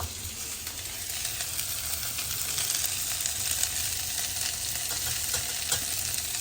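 Ivy gourd pieces fry in oil in a pan with a steady, close crackling sizzle that runs continuously, broken by faint scraping of stirring, with no voices.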